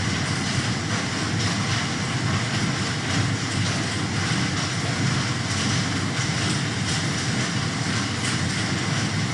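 A railway train passes nearby, making a loud, continuous rumbling roar that holds steady for the whole stretch, with no voices over it.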